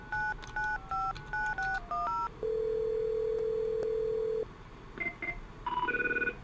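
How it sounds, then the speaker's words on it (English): A rapid series of touch-tone beeps as a number is dialed on a SIP trunk phone system, then a long steady ringback tone, followed by a few more electronic tones near the end. "Alright, so now my phone's ringing."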